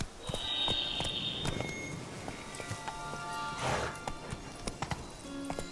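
Roach, a horse in the video game The Witcher 3, gallops in a steady clip-clop of hooves at moderate volume with soft ambient game sound underneath.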